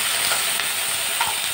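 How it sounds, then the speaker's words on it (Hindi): Paneer sizzles in hot ghee, a close, continuous crackling fry with small pops and no voices. "और इसी घी में मैं पनीर को डाल दूंगी तलने के लिए थोड़ा।"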